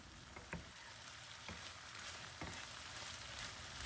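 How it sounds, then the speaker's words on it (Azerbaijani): Onions and colored peppers frying in oil in a pan, a steady faint sizzle with occasional small crackles and pops throughout, no voices. "Biberlə bir yerdə bunları da 8-10 dəqiqə yağda qovururam."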